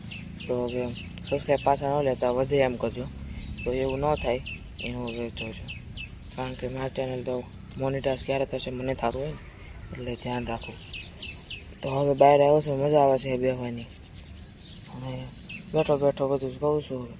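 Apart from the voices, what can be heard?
sparrows chirping outdoors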